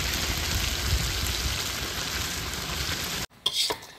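Meat being stir-fried in a pan at a riverside picnic gives a steady broadband sizzle. It breaks off abruptly near the end, followed by a few sharp scraping stirs.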